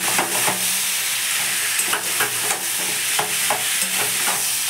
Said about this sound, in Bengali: ভাজাগুলো দিয়ে দিলাম। দিয়ে ভালো করে নেড়ে ছেড়ে নেবো